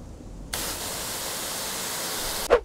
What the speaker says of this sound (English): We're talking crazy wind and penetrating rain.